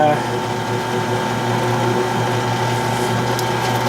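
A drill bores steadily into steel while a thin stream of compressed air blows on the hole, giving a continuous loud mechanical whir and hiss with a faint rattle, all close by while fabricating a 24-inch mini excavator bucket.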